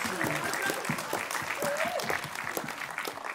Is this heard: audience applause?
yes